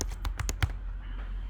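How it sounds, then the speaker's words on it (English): Several quick keystrokes tap on a computer keyboard, close and fairly soft, in a short irregular burst that stops after under a second, leaving quiet room hum. "So now I'm gonna start typing in Batman."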